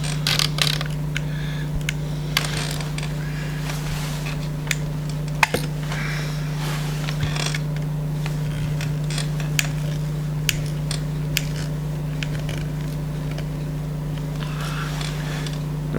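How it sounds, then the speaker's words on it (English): Screw being driven into a pre-bored hole while mounting a Hammond & Morgan point motor, with faint creaks and ticks over a steady low background hum. "you just put the screw in"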